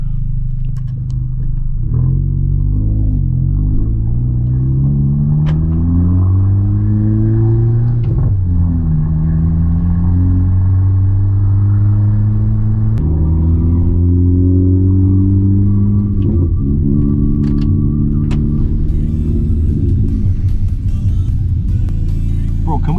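A car engine rumbles steadily close by, with several rising revs that climb in pitch, drop back and climb again, loud and continuous throughout.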